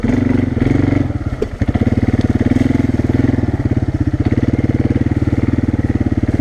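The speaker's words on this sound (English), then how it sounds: "I'm just gonna keep rolling until I leave, because I want to hit these 2 or 3 greasy mud holes that I can hit leaving the trail" An ATV engine chugs loud and close while riding through greasy mud holes on a trail, its low throbbing pulse steady and rhythmic, briefly breaking up with a clattering lurch before settling back into a rapid, even beat.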